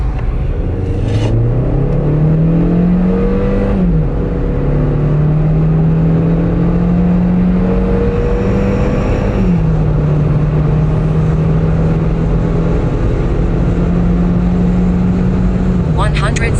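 Kia Sportage 2022 with a 1.6 turbo GDI petrol engine accelerates hard from 40 km/h. The loud cabin engine drone climbs steadily in pitch with two gear shifts, while someone speaks over it.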